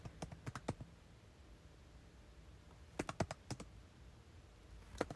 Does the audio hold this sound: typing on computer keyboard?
yes